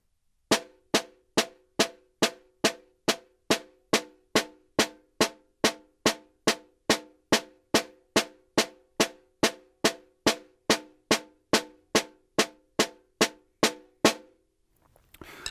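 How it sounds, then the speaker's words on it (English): Evenly spaced snare drum tap strokes, about thirty crisp hits at a slow steady tempo in groups of eight per hand, played alone with no talk. "take 8 on a hand, which we learned when we did our rebound stroke, but play it with tap strokes instead"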